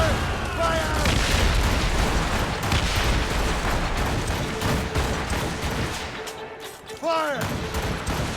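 Ship cannon fire in Assassin's Creed Rogue during a naval battle, a dense, rumbling barrage of booms that fades briefly near the end, with crew voices shouting over it.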